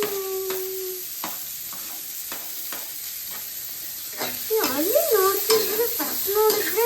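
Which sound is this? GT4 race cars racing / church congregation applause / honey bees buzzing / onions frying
onions frying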